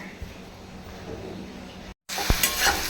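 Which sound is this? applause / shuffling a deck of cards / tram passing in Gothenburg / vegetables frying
vegetables frying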